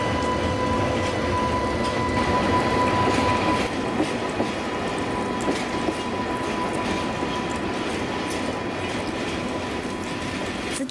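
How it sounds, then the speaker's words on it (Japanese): An EH500 electric locomotive hauling a freight train hums as it pulls away from Mito Station before dawn, a steady tone over rumbling wheels and faint clickety-clack, building gradually with no voices. "定番の電気機関車 EH500 の起動音ですが、やはり聞いていて迫力を感じます。"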